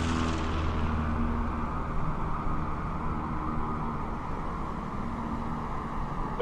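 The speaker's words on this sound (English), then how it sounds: "Unreal clean takeoff from Mr. Luke Carrier." Steady, droning propeller-aircraft engine roar from a takeoff in Microsoft Flight Simulator at an eSTOL competition at Moses Lake, loud and continuous with little variation.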